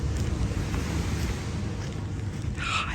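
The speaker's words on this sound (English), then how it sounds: "I hear the ocean." Ocean waves on a Puerto Rico shoreline give a steady, broad wash of surf with wind rumble, continuous and fairly loud throughout, and a brief higher-pitched sound near the end.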